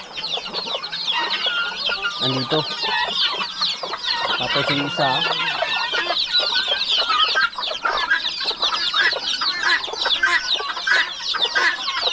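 Hens cluck and chatter continuously in a busy flock, close and lively, with someone speaking briefly underneath.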